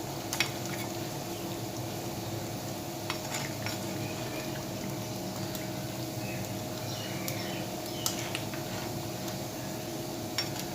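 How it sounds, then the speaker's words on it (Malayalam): Curry leaves are stirred in a pan of simmering fish curry, with faint scraping and clinking of a utensil against the pan over a steady, soft sizzle. "നമുക്ക് കറിവേപ്പില ഒന്ന് മെല്ലെ ഒന്ന് ഇളക്കി കൊടുക്കാം."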